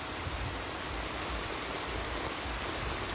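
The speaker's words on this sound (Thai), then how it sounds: "ฝนตก" Steady rain hisses evenly throughout, a dense wash of falling drops with a low rumble underneath and no voices.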